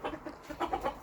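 Hens cluck in a garage coop, a quick series of soft, close clucks with no voices.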